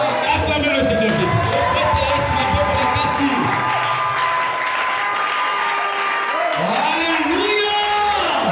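A church congregation cheers and acclaims during worship, a dense wash of applause, shouts and voices sustained loudly throughout, with sung or called-out voices rising near the end.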